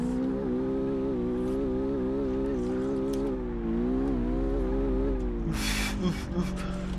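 A BMW M3 in the City Car Driving game revs hard in third gear, a steady, loud engine drone with wavering pitch that runs throughout, broken near the end by a brief burst of harsh noise.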